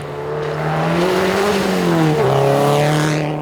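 A Subaru rally car in a Quebec winter rally speeds past, its loud engine revving up and falling through gear changes, the pitch swinging as it closes in and pulls away.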